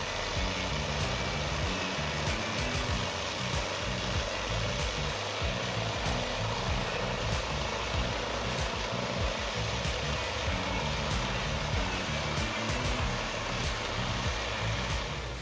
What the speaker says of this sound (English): an advanced wood chipping machine with a powerful engine combined with sharp blades